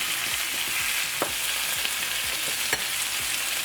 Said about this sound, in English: once your vegetables have sauteed for about a minute, go in with your cooked dumplings